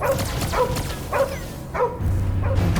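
Cosmo, a dog in Guardians of the Galaxy, gives a run of about five sharp barks, evenly spaced and close, over a low rumbling backdrop.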